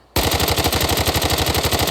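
Rapid automatic gunfire from a new gun in the Arena Breakout shooter game, a loud sustained burst of evenly spaced shots starting abruptly and running without pause.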